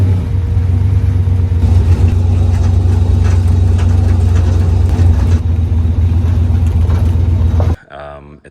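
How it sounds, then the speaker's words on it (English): A Chevrolet El Camino rumbles along a dirt road, its engine a steady, close, low drone with gravel-like crackle on top, cutting off abruptly near the end. "Drove it on my dirt road."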